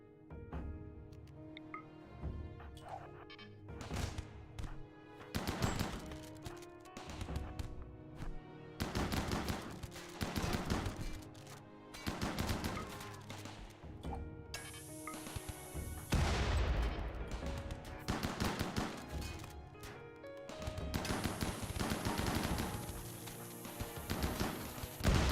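Mini turrets fire in the video game RimWorld as rapid, repeated bursts of gunfire crackle loudly over steady background music for the whole stretch.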